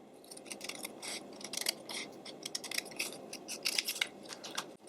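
Scissors snip through material from an Altoid tin for a Mod Podge craft, a quick run of small crisp cuts close by, fairly quiet, with no talk.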